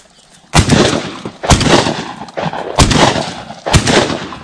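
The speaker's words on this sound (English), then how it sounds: "Shoot the drake." Four heavy shotgun blasts boom out while duck shooting in New Zealand on closing day, spaced about a second apart, loud and near with echoing tails between shots.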